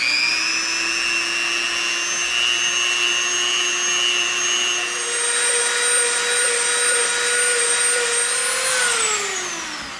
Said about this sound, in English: now we're gonna come in with our Dremel and we're gonna round off the top edges of our wedge